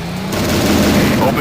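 Rapid, dense automatic gunfire fills a brief burst in Transformers: Decepticons on the Nintendo DS, loud and continuous, with a faint tonal hum beneath.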